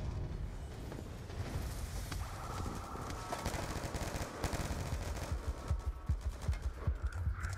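Rapid gunfire rattles continuously in a Wii U shooter, dense overlapping shots under a low rumble of game noise, moderately quiet and without a break.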